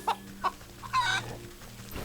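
Chickens in the farm area of the video game Wytchwood cluck in a few short, sharp bursts followed by a longer squawking cluck, fairly loud and close, with no talk over them.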